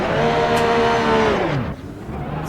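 A 2021 Porsche RSR race car in Assetto Corsa on the Nürburgring: a loud, close engine drone holding a steady high pitch, then sliding downward as the revs drop, with no talking.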